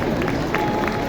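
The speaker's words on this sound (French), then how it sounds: "je crois qu'on peut applaudir Émilie Clavel" An audience applauds at an outdoor sheep shearing demonstration around a ring, with dense, continuous clapping and crowd noise held at a steady loud level for a brief moment.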